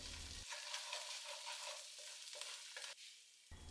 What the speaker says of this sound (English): I'm going to let that bloom in the oil to develop its flavor